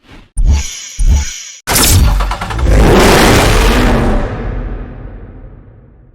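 A Dodge Challenger SRT8 with a 6.1-liter Hemi V8 in Need for Speed Hot Pursuit: a few short clicks and blips, then a loud, sustained engine roar that swells and slowly fades away.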